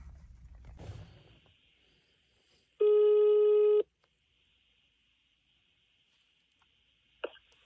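A phone ring-back tone sounds alone as one steady, clear electronic buzz of about a second during an outgoing call, after faint handling noise and before a short click.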